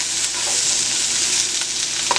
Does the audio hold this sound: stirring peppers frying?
yes